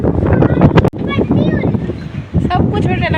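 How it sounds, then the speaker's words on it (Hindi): Strong wind gusts blowing outdoors in pleasant stormy weather, a loud continuous roar and buffeting against the microphone throughout, under someone talking in Hindi. "क्या देखो हवा चल रही"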